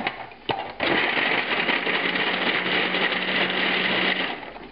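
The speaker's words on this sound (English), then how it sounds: "I've got the Brussels sprouts loaded into the food processor" Food processor whirring steadily as it chops Brussels sprouts with 15 grams of garlic cloves, a loud continuous motor drone that starts after a brief pause and runs for about four seconds before cutting off, with no talking.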